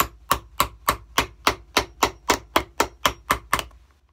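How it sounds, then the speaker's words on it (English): A hammer strikes a leather shoe shank during an Allen Edmonds shoe restoration, about a dozen sharp, evenly spaced blows at a steady rhythm, close and clear with no talking. "So what we do is we hammer it down right in the middle."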